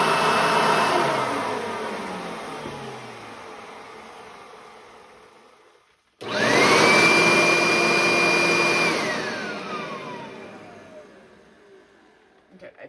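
Two 1990s vacuum cleaners, a Eureka and a Hoover, run one after the other: the first drones loudly and fades as it shuts off, then the second starts with a rising motor whine, holds a steady high tone and winds down at the end.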